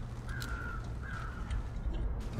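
Two drawn-out crow caws sound at a moderate distance over a constant windy background in The Long Dark, spaced about half a second apart.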